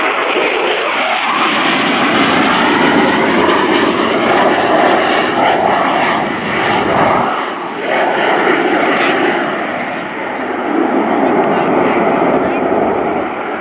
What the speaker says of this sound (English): Fast pass coming shortly, accelerating the Typhoon up to somewhere in the region of 600 knots.